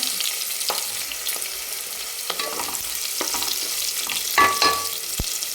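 Spices sauté in hot oil for masala rice, a soft continuous sizzle broken by scattered clicks and scrapes of a spoon stirring against the pan, one sharper knock near the end.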